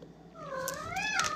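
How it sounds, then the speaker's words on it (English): A house cat meows close by in a long, rising and falling call that ends in a higher wail, heard alone with no talking. "Sorry about my cat."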